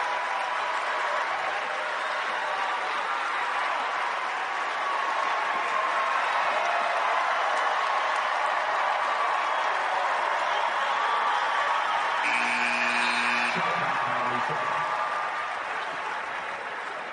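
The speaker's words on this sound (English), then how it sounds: "The crowd showing their appreciation at Gampel." A crowd applauds steadily at Gampel Pavilion during a UConn vs Maryland NCAA women's basketball game, a dense, loud wash of clapping and cheering that fills the arena for the whole stretch.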